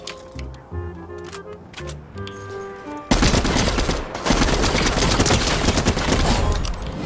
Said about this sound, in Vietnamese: Đây là một khẩu shotgun đầu game anh em nên tập dùng này